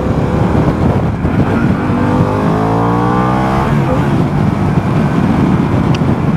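A Harley-Davidson Pan America 1250 Special accelerates through second gear, its loud engine note climbing steadily over several seconds amid heavy wind rush, close and continuous with no voices.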